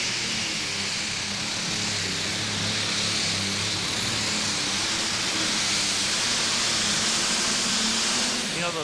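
A 505 cubic inch IH 1066 tractor in the Super Stock Light class roars at full power during an NTPA Grand Nationals pull in Brandenburg, Kentucky. It gives a loud, unbroken engine blast that holds steady throughout.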